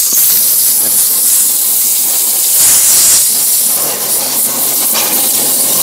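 A Shakti Technology S5 pressure washer blasts a loud, steady hissing jet of water into a cardboard carton at close range, with a brief change in the spray's roar partway through.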